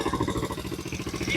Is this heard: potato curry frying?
no